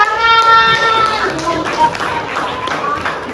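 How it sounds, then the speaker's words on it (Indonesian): A group in a classroom training session breaks into short bursts of hand clapping, mixed with loud voices calling out over the claps. "Tepuk tangan."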